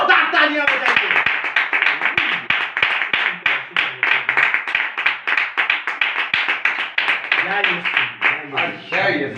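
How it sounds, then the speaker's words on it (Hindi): A congregation claps in a quick, steady rhythm during a Christian service, the hand claps loud and close with voices speaking and calling out over them throughout. "एक बार अपने लिए ही जोरदार तालियां बजाइए।"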